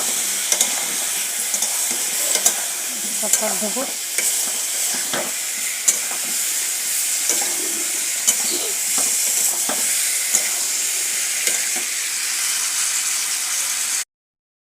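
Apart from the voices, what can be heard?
spices with turmeric frying in a pan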